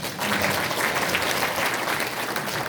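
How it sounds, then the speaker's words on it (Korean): Audience at a 2024 constituency report meeting in Yuseong, Daejeon, applauding Congressman Jo Seung-rae: dense, steady clapping from a large crowd, close and continuous for the whole stretch with no voices on top. "제 옆에 앉아준 사람이 조승래 의원이었습니다. 박수 한번 쳐주십시오."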